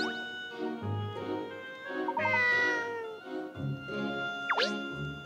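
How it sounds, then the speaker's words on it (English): A cat in the video game Layton's Mystery Journey meows several times in short separate calls over soft background music, clear and close. "Oh, the cat!"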